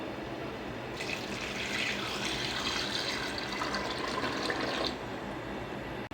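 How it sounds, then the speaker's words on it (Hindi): Glasses of water are poured into a pot of goat mutton for yakhni pulao, a steady rushing splash that starts suddenly, holds for about four seconds and then stops, heard up close and alone. "अब इसमें ऐड करेंगे 3 से 4 गिलास पानी यानी कि वाटर।"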